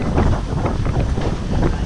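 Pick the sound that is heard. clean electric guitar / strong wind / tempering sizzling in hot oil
strong wind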